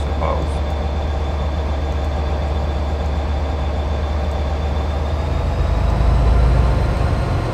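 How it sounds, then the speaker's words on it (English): A Class 67 diesel locomotive in Train Simulator 2013 at Didcot Yard, a steady low engine rumble and rolling hum, constant and close, swelling slightly near the end. "We're just supposed to be driving this train"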